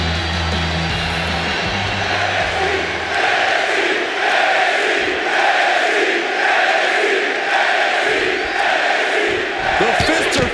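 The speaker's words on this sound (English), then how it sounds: "this crowd is hot" Loud, dense video game arena crowd cheering and roaring throughout a WWE 2K26 wrestling match in NXT Universe Mode, a steady wall of noise that swells in the middle and end.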